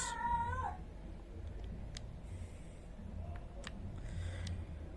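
A pet cat yowls once at the very start, a short, wavering, rising-then-falling cry close by, followed by faint clicks and quiet room noise.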